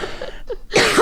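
Short harsh coughing bursts from a person, close and loud, rising into a rough cough at the end.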